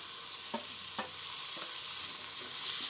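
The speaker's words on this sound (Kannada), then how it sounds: "ಫ್ರೈ ಆಗಲಿ ಫ್ರೆಂಡ್ಸ್ ಈಗ ಒಗ್ಗರಣೆ ಸ್ವಲ್ಪ ಬಾಡಿದೆ" Spiced tempering for a homemade pasta sizzles steadily in a pan, a bright, even hiss broken by a few soft clicks of stirring.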